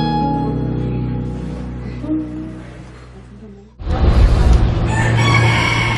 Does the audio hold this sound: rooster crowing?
yes